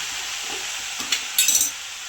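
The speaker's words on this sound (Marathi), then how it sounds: "थोडी भाजी टाकली तर खालीवर करून घ्यायची" Karadi greens being stirred in a frying pan give a steady sizzle with a few scraping and clinking strokes of the spoon toward the end.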